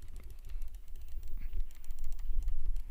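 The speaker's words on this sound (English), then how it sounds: "I'm clicking." Rapid, continuous mouse or keyboard clicking while playing a Roblox monkey-raising game, a dense run of sharp clicks over a low background hum.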